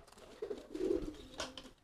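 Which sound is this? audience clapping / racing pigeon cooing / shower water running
racing pigeon cooing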